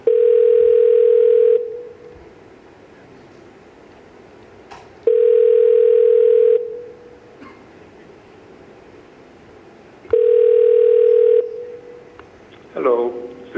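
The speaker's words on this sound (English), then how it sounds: "After 4 rings, you usually get voicemail." A telephone call rings through on the line before going to voicemail, with three long, loud, steady ring tones separated by silent gaps of a few seconds.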